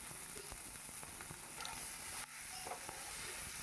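Potato pieces fry with green chillies in a pan, a soft, steady sizzling hiss with faint crackles and no talk over it.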